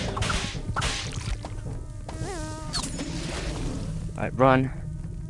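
Bees buzz in a video game: several short insect drones rise and fade around a player's quick remark, with thin whooshes and a sharper whine near the end.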